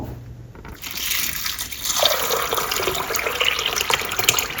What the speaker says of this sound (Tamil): இதை வந்து ஒரு பாத்திரத்துல போட்டு நீங்க தண்ணி விட்டு ஊற வச்சிடுங்க